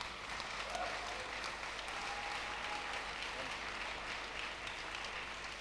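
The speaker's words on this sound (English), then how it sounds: "warm round of applause to the very talented Lior Raz" A conference audience at DLD Tel Aviv gives a warm round of applause, an even, continuous wash of many hands clapping, fairly distant and quiet throughout.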